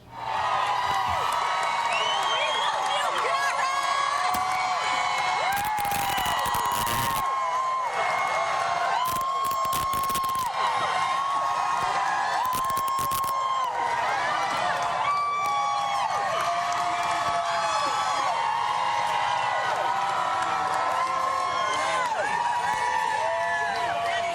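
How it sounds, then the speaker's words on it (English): A crowd gathered outside for Karen Read claps and cheers continuously, dense applause with whoops and shouts rising at moments, and people speaking close by over it. "Karen Reed is coming out and getting a big applause"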